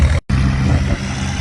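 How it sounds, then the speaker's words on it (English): A John Deere utility tractor with a wide front end, working at an antique power plow day, gives a loud, close, rough engine roar that drops out for an instant and then continues steadily. "here comes a utility version John Deere, wide front"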